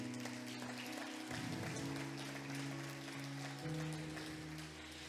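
A church congregation applauds during a sermon, a sustained wash of clapping from a crowd set somewhat back, over held keyboard music.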